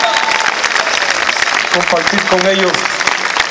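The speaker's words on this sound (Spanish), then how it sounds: "a la cual le pido un aplauso por estos increíbles músicos" Audience applauding for orchestra musicians at a live concert show, steady dense clapping throughout while someone speaks over it into a microphone.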